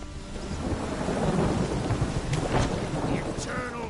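A thunderstorm rumbles with a low, rolling thunder under steady rain in The Witcher Wild Hunt, the rain hissing on surfaces throughout while a few brief sharper sounds and faint voices drift over it.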